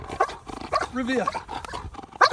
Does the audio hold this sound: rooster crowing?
no